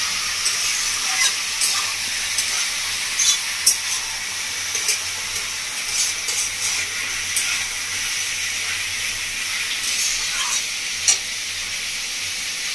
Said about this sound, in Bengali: মাংসটা দিয়ে ভালো করে কষে ভাজিয়ে নেব